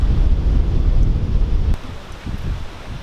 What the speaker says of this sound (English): I don't like the bench waving in the wind, but it is nice.